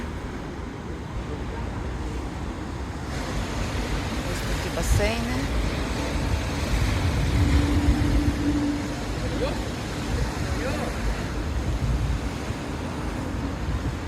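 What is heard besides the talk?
rough ocean waves and wind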